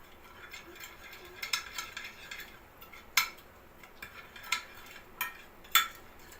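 Small spoon clinking against a bowl while a duck marinade with a little olive oil is stirred, a quiet scraping swirl punctuated by several sharp, close taps spaced about a second apart.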